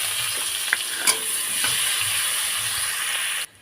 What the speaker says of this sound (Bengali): পেঁয়াজগুলো খুব ভালো করে একটু করে লাল করে ভেজে নেবো